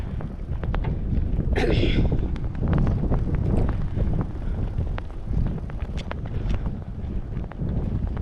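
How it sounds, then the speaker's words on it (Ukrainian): Strong headwind buffets the microphone of a cyclist riding alone along a highway, a constant heavy roar broken by faint clicks and a brief high squeak, while a voice speaks intermittently. "Сильний знову зустрічний вітер."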